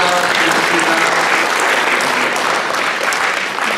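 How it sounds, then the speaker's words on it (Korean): A church congregation applauds to welcome a first-time worshipper at a Mother's Day service, a loud, steady roar of clapping filling the whole stretch, with faint voices underneath. "박수 환영합니다"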